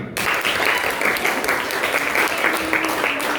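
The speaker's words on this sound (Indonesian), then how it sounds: "Ayo tepuk tangan." Classroom applause from students after a teacher's narrative lesson about the legend of Takengon, a steady dense clatter of many hands lasting throughout, fairly loud and without talk over it.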